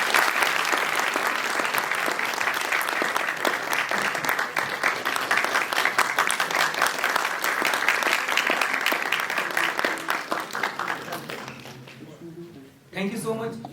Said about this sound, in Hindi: मैं आपकी जोरदार तालियों से स्वागत करना चाहूंगा इस नाटक के निर्देशक